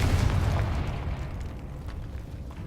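A Confringo blasting spell explodes in a Harry Potter video game, a loud low boom that opens strongly and rumbles on as a dense roar, slowly fading over a few seconds with no talking.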